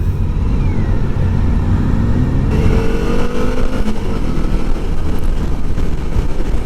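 Suzuki V-Strom 1050DE V-twin motorcycle engine under riding load, a steady loud drone with wind rush throughout and a rising tone partway through as it pulls harder; no talking.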